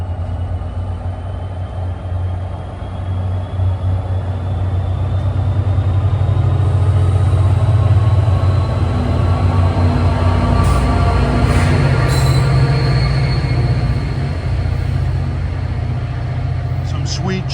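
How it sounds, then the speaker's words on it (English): An NJ Transit PL42 diesel locomotive passes at Ho-Ho-Kus on an autumn day, a steady low engine rumble and wheel noise building and holding, with brief higher tones near the end and a voice talking over it. "Train 1213 at Ho-ho-kus, and this PL42 has a weird sounding horn."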